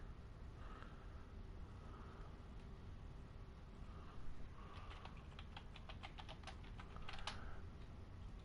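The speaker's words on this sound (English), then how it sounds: "Sorry for the loud tappy tappies of the keyboard." Clicky computer keyboard keys tapped in quick irregular bursts during a gaming stream session, faint and close with a low background hum, clusters of keystrokes denser toward the end.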